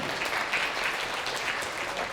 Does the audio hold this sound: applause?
yes